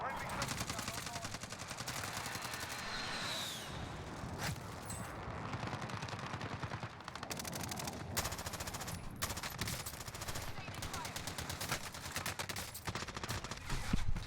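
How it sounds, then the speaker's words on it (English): A video game's friendly automated system gun fires rapid, sustained bursts of loud machine-gun shots almost without pause, with a voice talking over the gunfire. "Friendly system gun online."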